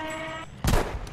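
A tank cannon in the video game Battlefield V fires a single loud, sharp blast that cuts off a steady tonal hum, followed by a brief rumbling tail.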